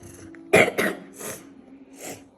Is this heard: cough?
yes